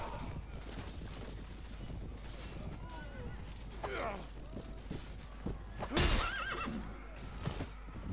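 A horse neighs and whinnies amid a battle in Mount & Blade Warband, with clip-clopping hooves and battle noise around it and someone talking over the action.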